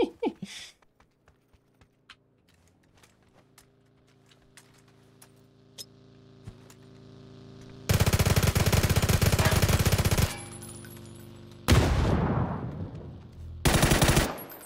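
Automatic gunfire in the battle royale game PUBG, fought among skyscrapers on a city map: after quiet, faint in-game sounds, loud sustained bursts of rapid fire ring out for several seconds, followed by two shorter bursts.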